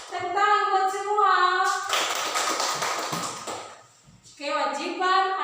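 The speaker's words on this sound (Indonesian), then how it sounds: "Tepuk tangan buat semua." A sixth-grade class of children claps in short rhythmic bursts between stretches of sung or chanted voices, with the clapping loudest in the middle and voices returning at the end.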